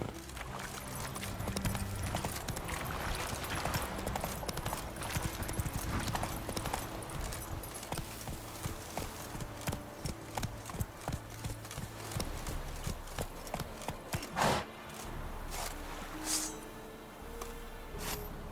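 Hooves of Roach, Geralt's horse in The Witcher 3: Wild Hunt remastered on PS5, clip-clopping in a steady rhythm, then slowing into separate, sharper footfalls, with a brief whinny and faint voices in the background.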